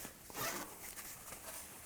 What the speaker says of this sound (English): Zip them up.